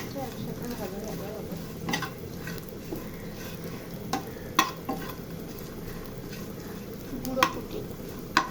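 Puti fish fry alongside softened onions in a pan, giving a soft continuous sizzle broken by occasional scraping stirs and light clinks of a utensil against the pan.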